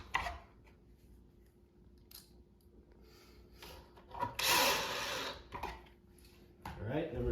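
A power screwdriver drives screws into a wooden farmhouse shoe bench in one loud whirring burst of about a second, with a shorter buzz later and quiet handling around it.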